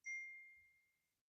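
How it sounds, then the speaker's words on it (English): A single soft electronic ding from a phone notification, a clear two-tone chime that rings out and fades over about a second in a quiet room. "You guys are holding the phone that dinged and I got a notification on."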